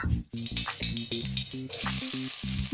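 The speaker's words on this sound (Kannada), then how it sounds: "ಬಿಸಿ ಆದ ನಂತರ ಈರುಳ್ಳಿ ಹಾಕಿ ಫ್ರೈ ಮಾಡ್ಕೊಳ್ಳೋಣ." Onions fry in hot oil in a pan with a continuous close sizzle, under a rhythmic run of tonal notes.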